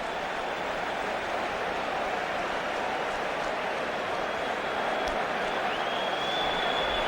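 Stadium crowd at a 1999 NFL football game between the Washington Redskins and Detroit Lions roars in a loud, continuous wash of noise with no break, broad and distant-sounding, as if heard from the broadcast booth.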